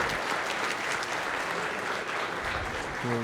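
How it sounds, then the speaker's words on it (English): A crowd at a junior livestock show and sale applauds a group of senior exhibitors with dense, steady clapping that runs the whole time, with a faint voice surfacing near the end. "Let's give this group of seniors a big round of applause"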